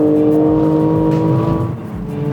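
A Porsche Macan GTS accelerates hard from inside the cabin, its engine note rising and shifting through quick gear changes, loud and continuous over a couple of seconds.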